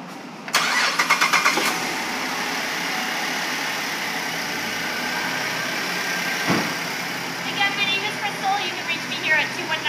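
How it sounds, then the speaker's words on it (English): The engine of a 2011 Chevrolet Traverse 1LT cranks with a quick rattling stutter, fires up and settles into a steady idle, heard close with the hood open, followed by a few faint clicks and some background sounds. "Kind of pop open the hood and get it started so you can hear it."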